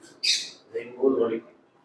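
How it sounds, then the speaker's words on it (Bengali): A rainbow lorikeet kept as a pet bird, fed sunflower seeds, gives a sharp shrill squawk up close, followed by lower rough chattering calls, all within under two seconds. "একটা লেইন রেইনবো লরিকেট পাখি"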